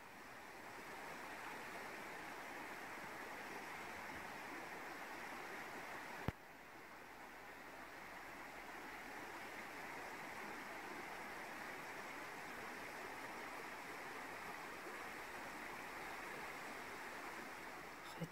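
Rushing water pours continuously in a broad, steady roar like a waterfall, constant in level apart from one brief click.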